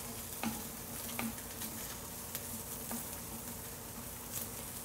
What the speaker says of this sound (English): Just give these a stir so that they're cooking on all sides.